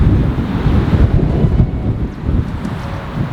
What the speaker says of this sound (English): Sorry, it's kind of windy, so I have no idea if you guys are going to be able to hear me or not.